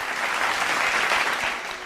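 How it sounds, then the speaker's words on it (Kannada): An audience at a singing reality show claps for a contestant, Vaishnavi, in a dense, steady burst of applause that stays loud throughout and tapers off slightly at the close. "ಫಸ್ಟ್ಲಿ ನಮ್ಮ ವೈಷ್ಣವಿಗೆ ಬರಲಿ ಜೋರ್ ಚಪ್ಪಾಳೆ"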